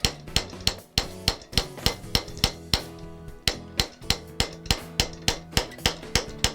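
A hammer striking a metal bracelet held on a stake to form a concave shape, giving a steady series of bright, ringing metallic blows at an even rhythm, close and loud, with no talk.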